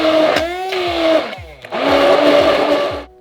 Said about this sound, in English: keep blending until all the oil is finished